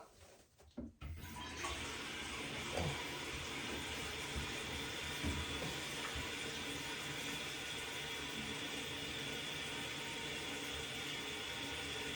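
Water rushes steadily into a toilet tank refilling after a new flapper valve is installed, beginning with a brief clunk and then a constant, even hiss and flow that continues unchanged to the end.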